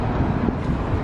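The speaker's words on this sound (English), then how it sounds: "It was so windy." Steady, dense wind buffeting across the microphone in Sydney, Australia, a continuous low rumble with no voices, filling the whole short stretch.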